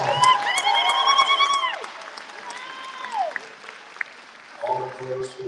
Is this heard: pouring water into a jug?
no